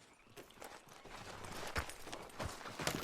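Horse hooves clip-clop at a walking pace in the Red Dead Redemption 2 game world, the uneven footfalls fairly close and moderately loud over soft ambient outdoor background.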